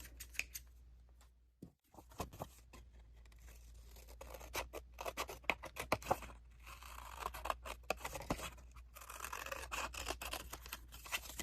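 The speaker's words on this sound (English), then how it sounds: "So I'm going to get my scissors out and get to cutting." Repeated crisp snips and rustles of scissors cutting paper, close and fairly quiet, in irregular bursts with a brief pause early on.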